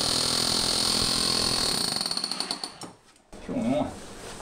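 A hammer drill set to hammer mode pounds into wood with a loud, steady rattling roar, then cuts out and falls briefly silent. A voice is heard near the end.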